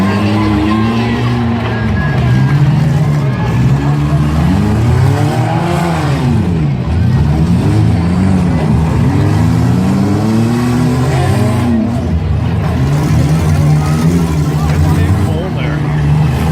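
Derby cars racing at the Milton fall fair motocross car derby, with engines roaring and revving loudly and continuously, rising and falling in pitch as they pass, under an announcer's commentary and crowd noise.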